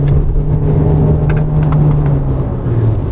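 MG HS SUV engine and exhaust in Super Sport mode, giving a steady loud revving rumble with a sustained low drone throughout, heard close and without talk.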